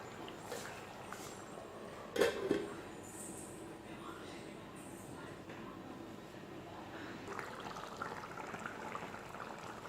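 Malabar fish curry made with tamarind bubbling in a covered pot on a low flame, a soft steady simmer and faint bubbling with a brief clatter near the start.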